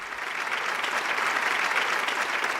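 A television game-show studio audience claps together in a dense, even burst of applause, sustained and fairly loud from start to finish.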